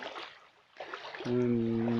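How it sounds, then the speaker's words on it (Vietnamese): A small headwater stream flows out from under dense brush with a steady, soft watery rush. Near the end, a low, steady droning hum joins in. "Đấy, nước chảy trong bụi ra nhá."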